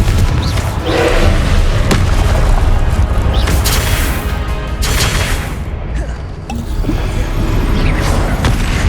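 Confringo fire spells blast repeatedly during a Hogwarts Legacy trial battle, loud booming explosions and crashing impacts layered over a constant dense wash of combat noise and music with no pause.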